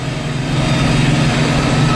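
An International Harvester 1586 tractor engine after an overhaul runs at a steady, continuous low rumble with a constant hum, fairly loud and close, no talk.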